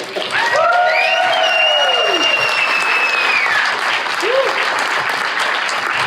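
Audience applause for filmmakers Tina Romero and Liz after they win Filmmaker of the Year, a dense, steady clapping that fills the room, with a couple of sweeping, whistle-like tones and cheers rising over it.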